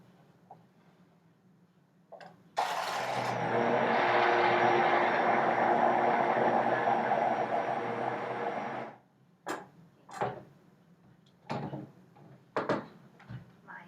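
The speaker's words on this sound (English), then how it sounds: "Handy dandy hand blender that doesn't quite reach the table" Hand blender whirring steadily for several seconds in a home kitchen while blending a Mountain Dew entremets mixture, loud and close, followed by scattered clatters and knocks.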